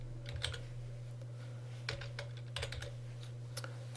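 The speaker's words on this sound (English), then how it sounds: "I can type in the next person's name" Someone types a name on a computer keyboard: soft, quick key clicks in short irregular bursts against a steady low hum, with no one talking.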